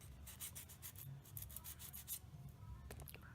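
Sandpaper rubbed over the clutch shoes of a Suzuki Burgman Street scooter to clean them, a quiet rapid series of short rasping strokes close up.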